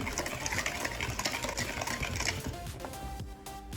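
Egg yolks being stirred with a pinch of salt and vanillin in a bowl, a steady busy whisking and scraping that runs throughout and eases off near the end.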